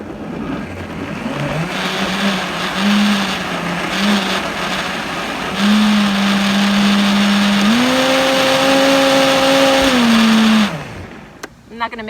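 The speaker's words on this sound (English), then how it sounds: "I'm not going to make you listen to that blender too long" An electric blender whirs through an avocado smoothie, its motor droning loud and close, rising in pitch as the load frees up, then cutting off abruptly near the end with a few small clunks.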